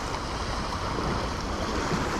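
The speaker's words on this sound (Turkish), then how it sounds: "Bak dalgalar biraz daha azaldı" Sea waves wash steadily over a shallow sandy beach at Erzin Burnaz, a continuous broad rushing surf with wind, close and fairly loud, with no voices.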